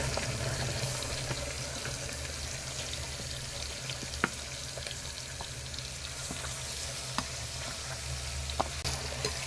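Marinated mutton sautéing dry in a pan for Tamil mutton kuzhambu, a steady close sizzle and hiss with occasional small pops and clicks throughout, no talking.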